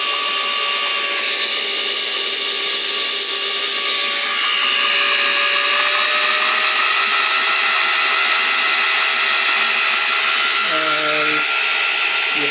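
A BLDC motor driven by an ESC spins at high speed, near 39,000 RPM, a loud whining tone that climbs in pitch and stays steady, with a brief dip near the end.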